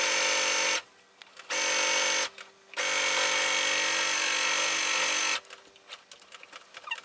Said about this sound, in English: we're gonna do this longer seam and backstitch in both sections